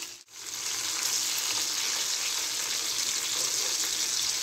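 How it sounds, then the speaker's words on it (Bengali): Pieces of pabda fish fry lightly in a pan, giving an even, steady hiss of sizzling oil that runs continuously after a brief dip at the start, close and fairly loud, with no voices. "একটু হালকা হালকা করে ভাজা হবে।"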